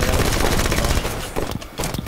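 Dense gunfire from several weapons in a Halo 5 multiplayer match, loud continuous shots in rapid bursts that thin out into scattered separate shots toward the end.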